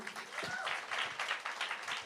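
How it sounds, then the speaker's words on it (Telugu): An audience at a film success celebration claps in a brief, faint, fairly distant burst of applause with voices mixed in. "అందరికీ ఒకసారి క్లాప్స్ కొట్టండి"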